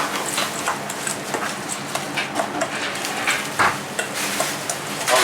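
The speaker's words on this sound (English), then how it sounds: "Now give everything a nice good vigorous mix." Bhel being vigorously tossed with tamarind and date chutney at an Indian street food stall, giving close, steady wet mixing and scraping sounds with irregular soft clacks, no talking.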